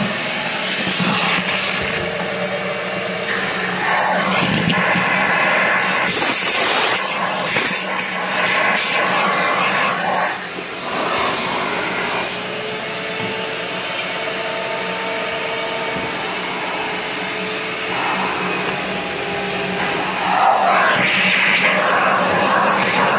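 A vacuum cleaner roars steadily and loudly for the whole stretch while it cleans the AEX90, with a shifting airy whine and a few brief dips as the nozzle moves.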